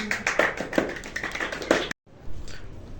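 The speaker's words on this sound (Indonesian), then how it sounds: "tepuk tangan dulu dong buat Ridwan" Scattered hand claps from a small audience for a stand-up comedian at a school talk show, a few distinct nearby claps that cut off abruptly, followed by faint room noise.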